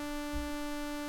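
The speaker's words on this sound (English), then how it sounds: "Now we look at a saw wave." A saw wave synthesizer tone sustains evenly, a quiet, buzzy, harmonically rich note held steady with no other sounds.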